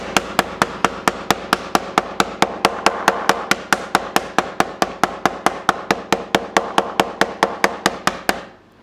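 Loud, rapid blows from a hammer pounding squid (chokka) bait pound steadily, about four strikes per second, close up and continuing without pause for several seconds before stopping.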